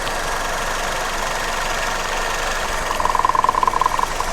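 A Maruti Ertiga engine runs at a steady idle after being restarted, one cylinder missing fuel with its injector line removed; a continuous hum with a rhythmic ticking knock that grows more pronounced toward the end, close and loud.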